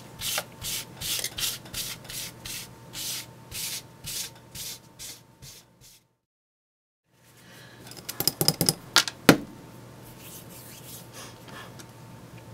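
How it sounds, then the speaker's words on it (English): An aluminum diode piece is scrubbed by hand to roughen it for epoxy, making a rhythmic series of close rasping strokes, a short silence, then a quicker, sharper burst of scraping. "I'm pretty much done etching in all the roughness in it for the epoxy to stick"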